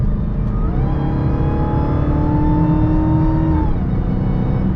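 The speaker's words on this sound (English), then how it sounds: "Oh my god, this car sounds so good." A 2020 Dodge Charger SRT Hellcat Widebody engine revs hard and loud, pitch climbing steadily before easing off, a continuous close-up roar with no talking.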